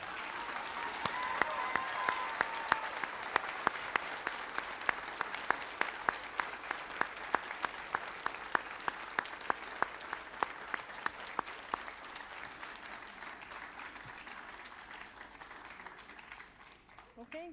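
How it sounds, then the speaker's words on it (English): Audience applauding a graduating practical nursing class at a college pinning ceremony: a long, dense round of clapping with many sharp individual claps, gradually thinning and softening toward the end. "Please stand and face the audience, and let's give them a big round of applause."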